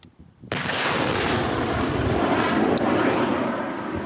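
A Partyzan rocket launcher fires in a combat setting with a sudden loud blast, followed by a sustained roaring whoosh that trails away, with a sharp crack partway through.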